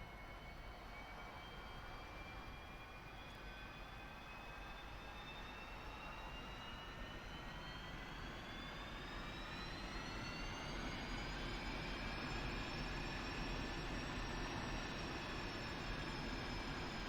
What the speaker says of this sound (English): Engine has spooled up, all the systems looks okay.